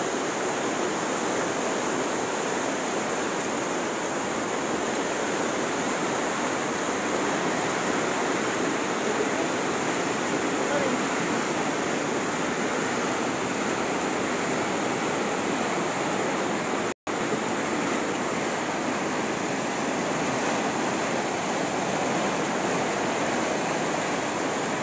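Floodwater pours over a flooded dam in Cabatuan, Isabela after heavy rain from a low pressure area, a loud, unbroken roar of rushing water that stays steady and close for the whole stretch, with no voices.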